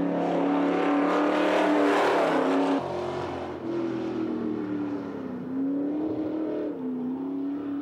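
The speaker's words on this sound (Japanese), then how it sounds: "ドリフトはしててもバンク出口で振られタイムロスをするノムケン。" A dirt stock car racing around a banked track, its engine roaring loud and steady close by with pitch rising and dipping as it drifts through the banking and accelerates out.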